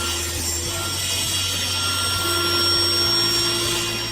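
A saw cuts steadily through wood for wooden stairs, a continuous rasping drone with a low mechanical hum beneath it.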